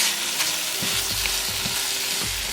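Carrots and watercress heated and tossed in a hot pan, a loud, close sizzle with a rhythmic series of scraping stirs from a spatula, no one talking.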